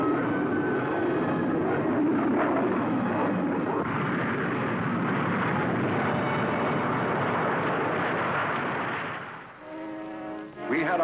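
A 1953 fighter aircraft roars past, a loud, sustained broadband engine rush that holds steady before falling off, with a brief low rumble trailing at the end.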